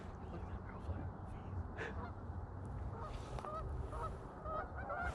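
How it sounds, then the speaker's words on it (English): Scattered goose honks during a late-season goose hunt, fairly distant, over a steady rumbling wind-and-field background, with a few calls clustering toward the end. "They're geese, I swear."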